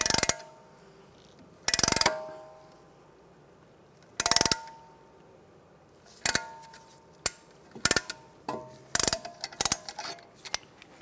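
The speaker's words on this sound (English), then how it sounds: "the tool, it's going to push the piston in" Ratcheting clicks and metallic clanks from a caliper piston compressor tool pushing the brake piston back on a Chevrolet Cruze front caliper, bursts of ratchet noise followed by a quicker run of sharp clicks, close and alone.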